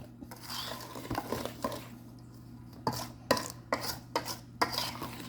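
A utensil stirs nutmeg and cinnamon together in a bowl for a French apple pie, with soft, faint scraping and a series of light clinks against the dish over a quiet kitchen hum.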